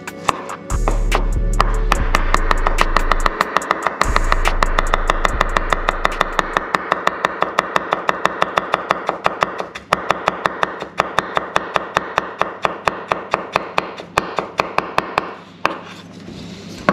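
Ginger chopped very finely with a knife on a board, a fast steady run of sharp close taps and cuts, with a low humming engine-like drone underneath.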